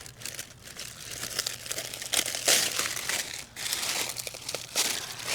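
Damaged cabbage leaves are cut away and pulled off during a July harvest, making continuous close crinkling, crunching and tearing sounds in uneven bursts, with no talk.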